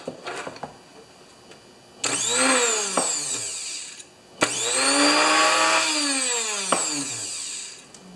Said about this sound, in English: we're going to plug this into some electrical service and see if it still spins.